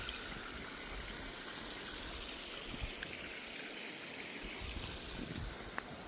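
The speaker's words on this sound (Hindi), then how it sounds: "ये देखिए यहाँ से भी पानी निकल रहा है" Fresh water flows out of the ground into a pool, making a faint, continuous trickling and gurgling stream sound with no talking.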